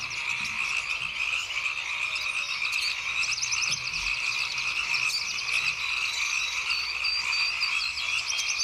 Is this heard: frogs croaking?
yes